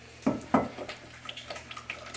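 An egg is mixed into sourdough batter in a bowl, with two sharp clinks of a utensil against the bowl and then softer, quieter stirring taps.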